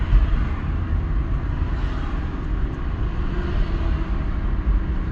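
Steady, loud engine and road drone from inside a car held in second gear on a road test for a gear-shifting problem, continuous and unchanging with no clear shift or voices.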